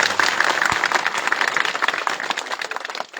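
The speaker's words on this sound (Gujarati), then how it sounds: "આપણે જોરદાર તાળીઓના નાદથી" A crowd at a thank-you gathering in Rajpara for politician Gopal Italia breaks into dense, sustained clapping, loud and close, with no pause for several seconds.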